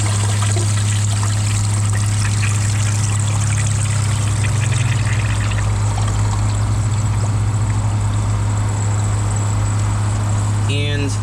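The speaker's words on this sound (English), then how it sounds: "I'm gonna give it a second flush, just to see if it unclogs itself." A Kohler Wellworth Ingenium toilet flushes for a second time while partly clogged, giving a steady rush and trickle of water as the tank refills, close and continuous with a low hum underneath.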